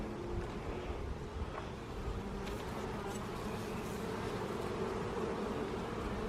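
Honey bees swarm around an opened hive during an August inspection and honey harvest, giving off a steady, dense buzzing drone that stays faint and continuous throughout with no talking.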